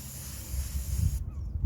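Aerosol cleaner hisses in a steady spray into the mass air flow sensor chamber of a Toyota Corolla, a close continuous burst that cuts off abruptly near the end.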